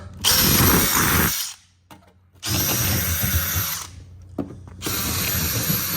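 A power drill with a 3/16 bit whirs loudly in three bursts, with short pauses between them and a grinding, ratcheting edge as the bit bites.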